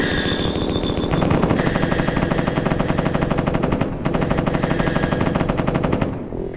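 An M60 machine gun in the 1995 video game Mortal Coil: Adrenalin Intelligence fires in long, loud, rapid sustained bursts with a brief break in the middle, alone without speech.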